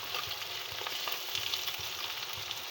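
Ingredients for a fish curry fry steadily in a pan, giving a continuous close sizzle with crackling pops and occasional stirring scrapes, with no voices.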